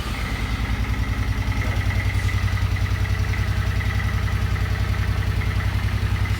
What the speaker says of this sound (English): just wanted to show what the bike sounded like with the stock exhaust first